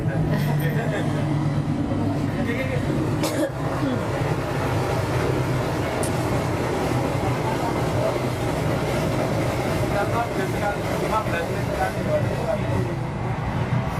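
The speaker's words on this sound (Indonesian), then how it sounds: "karena kita lokasi dekat dengan rel kereta api, jadi dari tadi lalu lalang rel kereta ya" A train passes on a nearby railway, producing a steady, loud rumble with rail clatter for about fourteen seconds. Faint voices may sit underneath.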